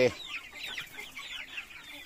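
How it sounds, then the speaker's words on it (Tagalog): Upgraded native chickens on a rural Philippine farm give soft, brief clucks and chatter at close range, a few quick calls over about two seconds with no talk. "Ayan ang ating upgraded native chicken."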